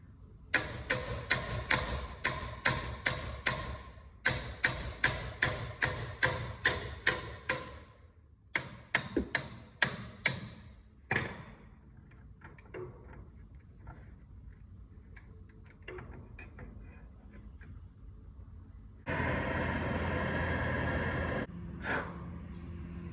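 Rapid ratchet clicking as 21 mm caliper bolts are loosened on a 1999–2004 Ford F-250 brake caliper, close and crisp in quick repeated runs with brief pauses, then fading into quieter clanks and a steady hiss.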